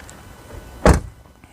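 The rear door of a 2022 Ford Mustang Mach-E opening, a single short electronic release click and thunk in a quiet setting.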